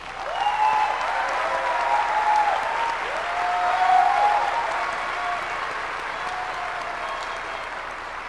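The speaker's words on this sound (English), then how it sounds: "Let's give them a round of applause, please." Sustained applause from a large graduation ceremony audience, steady and fairly loud throughout, with faint tonal sounds drifting over the clapping and a slight swell in the middle.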